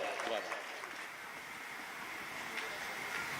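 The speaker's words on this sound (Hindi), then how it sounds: "जोरदार तालियों से स्वागत हमारे विधायक साहब तापसी जी राय" An audience applauds to welcome the MLA at a devotional gathering, a steady wash of clapping heard from a distance, even and continuous across the whole stretch with a voice faintly present underneath.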